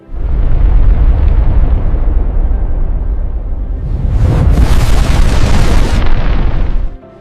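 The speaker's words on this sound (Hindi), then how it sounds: "धमाका" An asteroid slams into the ground at Chicxulub, Mexico, in a massive impact explosion: a loud, sustained rumbling blast that swells into a brighter roaring burst, then cuts off abruptly.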